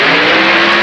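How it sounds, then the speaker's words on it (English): A fuel-burning, plastic-bodied funny car drag racer from 1970–1971 accelerates hard, its engine a loud, dense, continuous roar filling the short moment with no pause. "Funny car, the name given to the fuel-burning, plastic-bodied Frankensteins of the sport."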